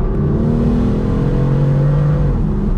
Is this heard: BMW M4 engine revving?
yes